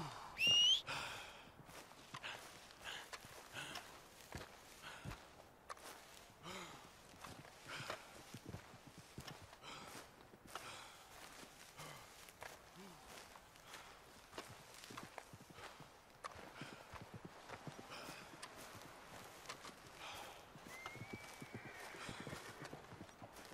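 A horse clip-clops at a walk through Red Dead Redemption 2 terrain, hooves landing in a fairly regular, quiet rhythm of many steps, with an occasional snort or whistle-like call and soft ambient background.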